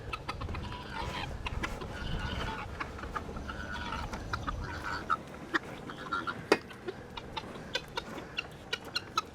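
Chickens cluck and squawk steadily around a yard at morning feeding, with scattered sharp clicks and knocks rising toward the end over a constant outdoor hiss.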